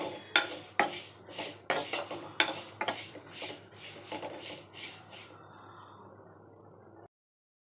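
Sprouted ragi is stirred as it roasts in a pan on a low flame. A spoon scrapes the pan in about a dozen distinct strokes, sharp at first and then softer as the stirring slows and stops.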